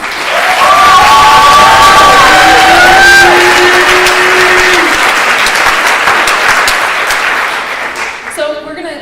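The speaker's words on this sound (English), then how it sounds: "a round of applause." An audience at a Richmond high school spring choir concert bursts into loud applause with whoops and cheers riding over the clapping, holding steady before tapering off near the end.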